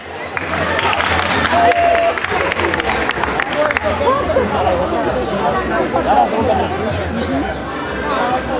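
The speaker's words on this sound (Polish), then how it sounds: "Brawa za ubiór!" An audience at a cooking contest results announcement claps over a continuous hum of crowd chatter; the applause is sustained and dense, with a few raised voices mixed in.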